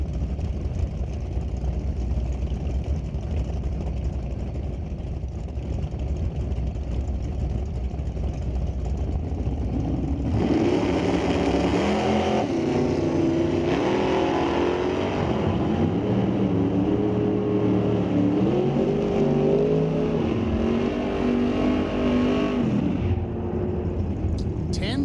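A 1967 Camaro and a 1969 Nova in drag racing qualifying at the NHRA Canadian Sportsnationals idle with a low rumble, then burst into a loud, sustained engine roar partway through, with commentary over the noise.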